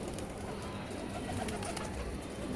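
A Jacobin pigeon coos amid a flock, with low, steady cooing that blends into a dense, loud murmur of birds throughout.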